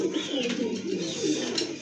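Pigeons coo softly and repeatedly at close range in a short burst, a low throaty warble with a faint higher chirp, heard alone without talk.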